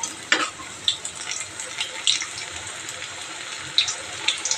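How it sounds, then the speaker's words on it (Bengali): Khesari lentil fritters mixed with elephant foot yam fry in oil with a soft, steady sizzle, broken by a few light clinks of a utensil stirring in the pan. No one speaks. "চলো বড়াগুলো ভেজে নিই।"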